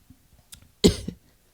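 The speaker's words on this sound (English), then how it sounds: "Don't cough in the microphone" A single sharp cough bursts close into a microphone, loud and brief, after a stretch of quiet with faint low murmurs.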